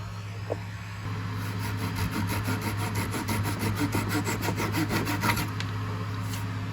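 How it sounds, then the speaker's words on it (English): A flush cut saw trims wood on a monitor stand in quick, even back-and-forth strokes, close and steady for several seconds before stopping. "we're going to take this flush cut saw and cut them down"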